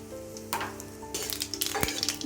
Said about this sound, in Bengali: তেল গরম হলে আমি একটু